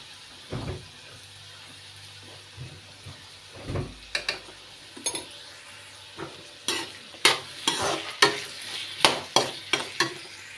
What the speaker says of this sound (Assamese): এইখিনি এনেদৰে ভাজি থাকিব